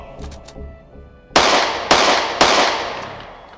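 Three sharp, loud gunshots in a video game shooting minigame crack out in even succession, each followed by a short decaying tail, after a quieter stretch with faint clicks.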